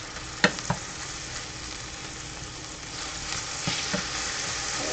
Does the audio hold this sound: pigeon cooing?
no